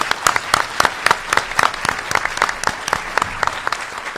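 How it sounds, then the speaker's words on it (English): A seated audience gives a round of applause for the speakers of a panel on globalization, steady dense clapping with sharper individual claps standing out, fairly close and loud, no voices over it. "we can provide them with a good round of applause"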